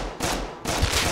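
Gunfire from the video game Rust comes as two dense bursts of rapid shots, close and loud, separated by a brief lull.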